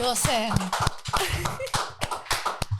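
Scattered hand claps from a small group during a film discussion, sharp taps breaking through over people talking nearby.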